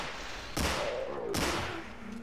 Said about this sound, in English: So we're going to test out the Glock